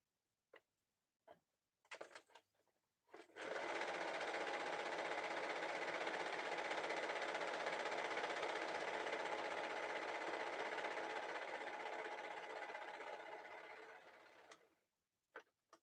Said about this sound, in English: I'm going to overlock the edge right here